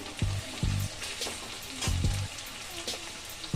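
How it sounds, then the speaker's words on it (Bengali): Chopped tomatoes drop into a pan of frying onions for Bengali chicken patiala, and a loud, steady sizzle follows with bursts of spitting and a few stirring scrapes close by. "দেখুন পেঁয়াজগুলো ভাজা হয়ে এসছে এরপরে আমি এর মধ্যে দিয়ে দেব কুচিয়ে রাখা টমেটো"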